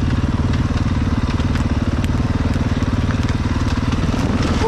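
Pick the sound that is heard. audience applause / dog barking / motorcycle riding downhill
motorcycle riding downhill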